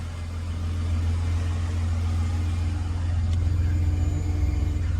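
Turbocharged Barra engine in a Ford AU Falcon running steadily just after starting, a deep continuous idle rumble close to the microphone with no talk over it.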